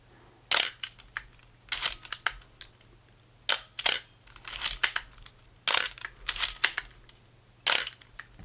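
An Olympus OM10 35mm SLR film camera shutter fires repeatedly, sharp mechanical clacks arriving singly and in quick pairs, close and crisp against a quiet hum.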